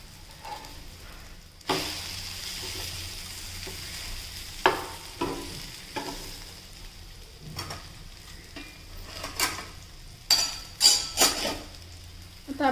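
Egg cutlet frying in oil in a pan, with a continuous soft sizzle broken by repeated sharp scrapes and clinks of a spatula against the pan.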